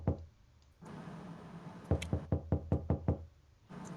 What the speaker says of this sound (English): Why are you knocking?